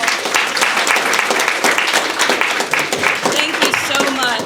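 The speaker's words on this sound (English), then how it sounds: "Let's give them another round of applause." Audience applause after a youth mental health presentation, a dense steady wash of many hands clapping throughout, with a voice talking over it toward the end.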